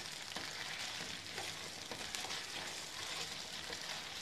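Nigella seeds sautéing in oil with taro root in a pan, a faint, dense, even crackling sizzle with tiny pops throughout, no voices.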